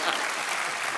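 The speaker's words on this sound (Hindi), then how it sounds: "पप्पू और आलू के लिए तालियां" A studio audience claps for film stars Varun Dhawan and Alia Bhatt on a comedy show, a dense, steady wash of applause heard briefly and fairly quietly.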